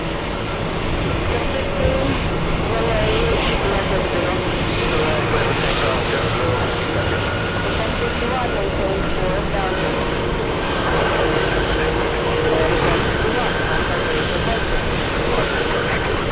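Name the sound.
Hawaiian Airlines airplane at JFK airport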